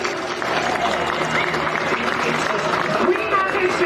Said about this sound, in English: I want to hear a round of applause for Lieutenant Colonel Kevin Shea